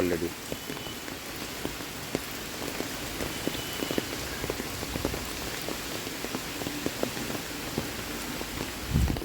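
Steady rain falling on surfaces on a cold morning after a storm, a dense continuous patter with scattered louder drops close by and no voices.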